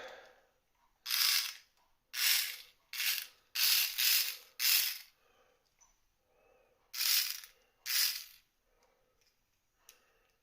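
Small wheels of a Hot Wheels RC Rodger Dodger 1/64-scale toy car spin in short, sharp whirring bursts, about eight of them, close up with brief silences between.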